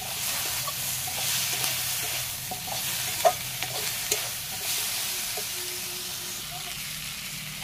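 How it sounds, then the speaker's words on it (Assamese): Cut potato pieces fry in hot oil with turmeric and salt for a fish curry, giving a steady close sizzle and hiss with occasional stirring clicks and no talking. "এতিয়া এয়া কাটি থোৱা আলু কেইপিচ দি মই এইখিনি ভালকৈ ভাজি ল'ম।"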